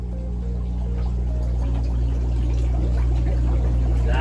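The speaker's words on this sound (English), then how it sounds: "That is a bubbling cauldron of organic fertilizer." A cauldron of liquid organic fertilizer bubbles and gurgles steadily over a constant low mechanical hum, close and fairly loud, with no speech.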